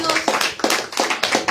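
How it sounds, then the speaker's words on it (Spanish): A church congregation claps hands in a steady rhythmic beat, about three sharp claps per second, loud and close, with voices singing or calling along underneath. "Palmas para Cristo"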